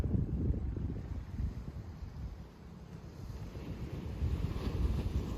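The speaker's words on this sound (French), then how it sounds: "Je ne sais pas si vous entendez le bruit des vagues" Waves wash in softly on a beach, swelling and receding under steady wind noise, fairly faint and with no talking.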